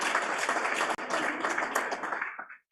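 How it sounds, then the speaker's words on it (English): An audience at a fintech awards ceremony gives a dense, sustained round of applause that dips briefly and then tapers off to silence near the end. "Yes, warm round of applause."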